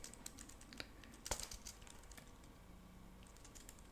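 Keys clatter as a command is typed into the King's Quest adventure game, The Quest for Daventry: sparse, light clicks in short irregular bursts, faint and close, with no voices.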